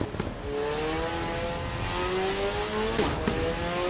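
A race car engine in the sim racing game Assetto Corsa EVO revs hard, its pitch climbing steadily, then breaks with a sharp gear change near the end before climbing again. It is loud and close, with no voices.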